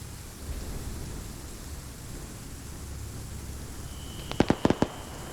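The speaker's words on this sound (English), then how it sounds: "Long range 50 cal shots going out." Long-range .50 caliber rifle fire in a military shooter game, a quick cluster of four or five sharp distant cracks near the end, following a stretch of low hissing ambience.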